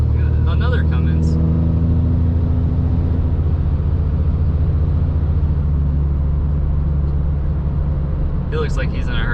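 A Cummins diesel truck passes on the road, heard from inside a quieter cab fitted with an aftermarket exhaust: a steady, loud low rumble of engines fills the clip, with brief mid-range whooshes near the start and end.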